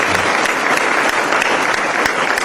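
A crowd claps continuously in dense, steady applause that stays loud throughout.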